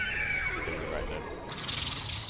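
A horse in the video game Destiny 2 gives a drawn-out neigh, heard under a narrator's voice over steady background music.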